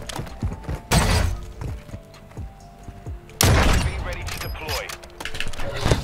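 Sniper rifle shots in a video game: two loud, sharp blasts a few seconds apart, each followed by a ringing, rattling tail and mechanical clicks, with softer game effects between.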